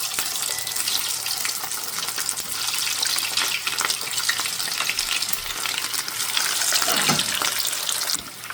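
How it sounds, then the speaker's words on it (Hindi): Gola kebabs fry in hot oil with a dense, steady sizzle that swells toward the end, with faint stirring noises and no talking. "तो चलें जी हम इसको ऑयल में डालते हैं और इसको फ्राई करके आपको दिखाते हैं।"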